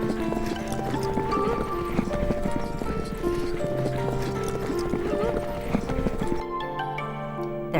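Horses of Kazak herders in Xinjiang walk with hooves clip-clopping steadily, blended with a busy layered backdrop of music and ambience that drops off near the end.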